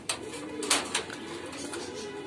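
A pair of Modena mutation pigeons coo in low, rolling murmurs close by, with a few sharp clicks and knocks breaking in near the start.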